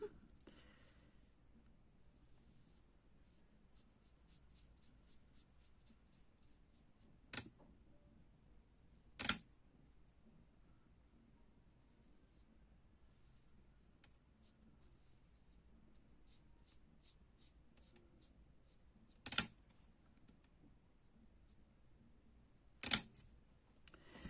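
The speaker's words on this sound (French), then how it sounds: "il y a les accroches que j'ai pas réussi à enlever. Et ça fait du bruit." Four sharp metallic knocks from metal hangers on a board, struck as a hand rests on it, spaced irregularly and close by, stand out against near silence with faint scratchy paper rustling between them.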